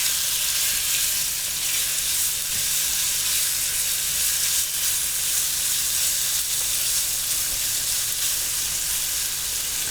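Beef strips frying in a large pan for a stir fry, with a loud, steady sizzle that hisses without a break from start to finish, close up and with no talking over it.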